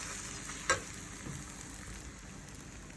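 Scrambled eggs sizzling softly in a pan as they are pushed and separated, a gentle continuous crackle with one brief sharp scrape of the utensil near the start, close and fairly quiet.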